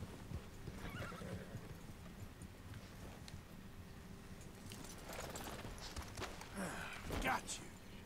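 In Red Dead Redemption 2, horses whinny and snort while hooves clop steadily on the ground, fairly quiet and mid-distance, with a louder neigh near the end and a voice talking over the game sounds.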